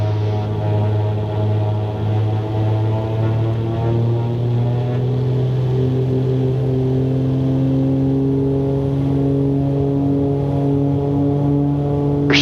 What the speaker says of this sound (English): There's takeoff power.